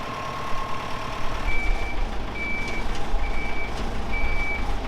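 A telehandler's reversing alarm beeps four times in a steady, evenly spaced rhythm over a constant engine and outdoor rumble in a work yard.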